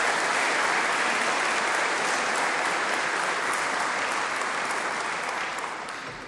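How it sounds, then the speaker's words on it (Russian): A large audience applauds loudly and steadily at a formal address in Tatarstan, a dense wash of clapping that fades slightly toward the end. "Аплодисменты Ростеху."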